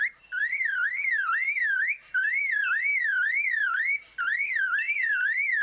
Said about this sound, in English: And that's a car alarm.